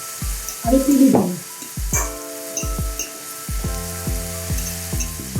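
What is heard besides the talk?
cooked rice being broken up in a pan with vegetables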